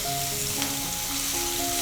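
Finely chopped medium onion sautéing over a low-to-medium gas flame, a steady close sizzle with faint crackle running the whole way through, no voices over it.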